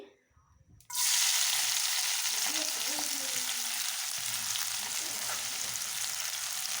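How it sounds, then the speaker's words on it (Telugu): Onions hit hot oil with a sudden loud hiss after a quiet moment, then settle into a continuous strong sizzle with faint stirring clinks, close to the pan, for a goat head meat curry. "నూనె మరిగింది ఉల్లిపాయలు వేసుకుందామండి"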